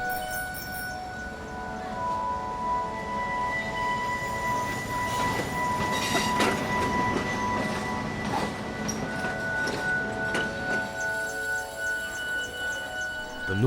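Train on the Northeast Frontier Railway in India rumbling steadily along the track, with continuous wheel and carriage noise, faint ringing metallic tones and occasional clanks throughout, no voices.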